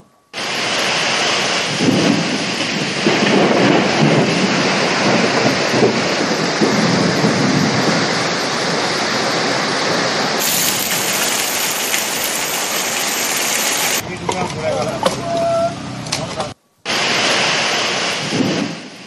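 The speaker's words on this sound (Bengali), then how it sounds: "শিলাবৃষ্টির সঙ্গে ঝোড়ো হাওয়া" A hailstorm with strong, gusty wind roars as a loud, dense wash of rain and hail, with rumbling undertones continuing for the whole stretch and a few brief breaks near the end.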